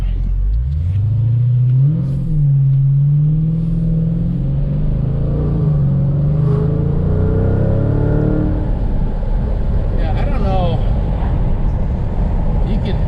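A car engine rumbles close by while driving at night, its revs rising and falling unevenly with a slight rough, stumbling sputter.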